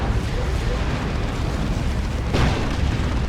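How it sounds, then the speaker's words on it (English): Rocket-run strikes in the Dawn of War 2 real-time strategy game, Chaos Space Marines versus Imperial Guard, a dense, continuous rumble of overlapping explosions with one sharper blast near the end, loud and unbroken throughout. "There's another rocket run."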